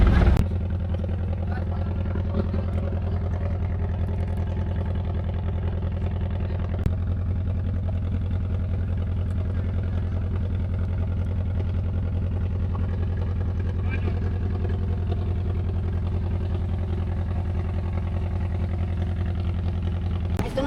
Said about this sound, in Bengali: আমাদের লঞ্চটা হচ্ছে ছেড়ে দিল মুন্সিগঞ্জের উদ্দেশ্যে যাত্রা শুরু।